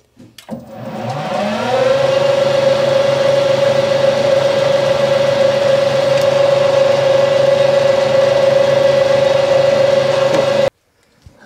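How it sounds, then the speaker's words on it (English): A lathe cuts a drive shaft with a steady, loud mechanical whine that spins up and then holds evenly for about nine seconds before stopping abruptly. "Let me do this one cut on the lathe"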